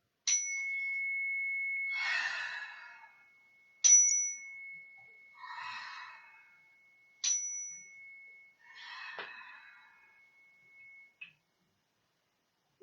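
A meditation chime rings at the close of a cat-themed yoga session, struck three times at a slow, even pace, each clear ring hanging and fading softly, interleaved with quiet breathy exhales and no talk.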